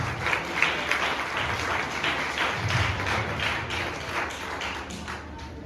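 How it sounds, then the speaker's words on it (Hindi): Loud, sustained applause from a church congregation honoring a pastor, dense clapping filling the space steadily from start to end without speech. "जोरदार तालियों के साथ"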